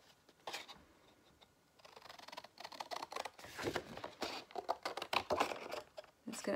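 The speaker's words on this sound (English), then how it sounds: "I'm going to cut all of the bigger rectangles basically up this way." Scissors snip through cardstock paper to cut rectangles, producing a quiet, close series of crisp clipping and rustling sounds that become busier and denser in the second half.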